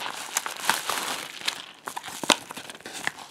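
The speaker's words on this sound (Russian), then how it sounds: "Вот пришла посылка из Китая. Открываем." Plastic wrapping of a parcel from China holding fishing lures crinkles and tears as it is opened, a close run of rustling and crunching with sharp crackles and brief pauses, no talk.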